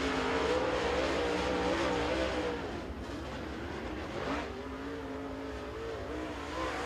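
A super late model race car circling the Crossville Speedway track during qualifying, a steady distant engine drone that dips slightly midway and holds on, with no talk.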